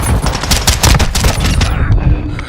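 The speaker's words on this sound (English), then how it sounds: "Hostile mortar strike incoming." Mortar strike explosions in a shooter video game: a dense, loud barrage of overlapping heavy blasts and crackling bursts that rumble continuously, then thin out slightly toward the end.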